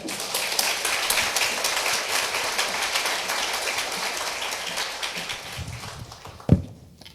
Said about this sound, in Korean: 우리 박리부가 사모님 나오실 때 우리 사랑과 우리 기쁨의 박수로 환영하겠습니다